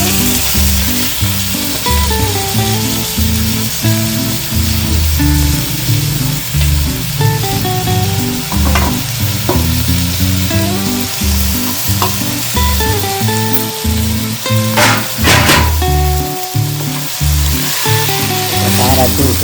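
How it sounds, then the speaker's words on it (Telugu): Mixed seafood pieces (crab, prawns and fish) frying with turmeric and chili in hot oil, a loud continuous sizzle with occasional stirring clatter, recorded up close throughout. "ఇవన్నీ కలిపిన ముక్కలు వేయించేసుకొని"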